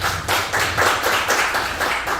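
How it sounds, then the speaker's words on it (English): A short burst of audience clapping at an anniversary panel event, with steady, fairly close claps pulsing in an even rhythm for about two seconds, no voices. "Please give them a round of applause."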